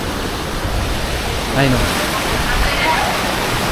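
Strong floodwater current rushing during flooding in Occidental Mindoro, Philippines, a loud, continuous roaring wash close by, with a person speaking briefly over it.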